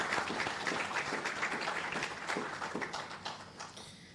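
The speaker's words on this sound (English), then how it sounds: "Let us just give a round of applause to all our presenters today." A room of attendees at an education symposium applauds the presenters, and the clapping starts full and busy and then thins and fades toward the end, with no voices.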